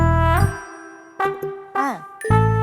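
A phone ringing somewhere in a family home, heard as a handful of chiming, slightly bending electronic tones in separate bursts, fairly loud and close with no talk over them.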